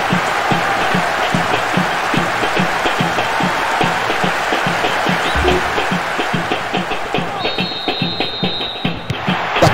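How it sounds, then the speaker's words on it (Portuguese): Stadium crowd applause and cheering in the Winning Eleven 10 football video game on PS2, a steady dense clapping roar lasting throughout, loud and continuous with a brief tonal whistle-like sound near the end. "E aplaudido pela torcida."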